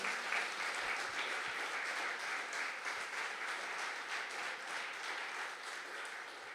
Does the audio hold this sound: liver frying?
no